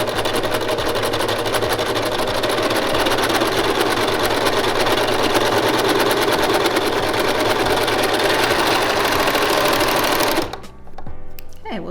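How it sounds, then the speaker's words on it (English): Overlock serger stitching along a fabric seam edge for a lapped seam finish, a steady fast mechanical whir running loud and continuous for about ten seconds before stopping abruptly, with quieter handling noise after. "we're going to serge that edge so it'll be clean underneath"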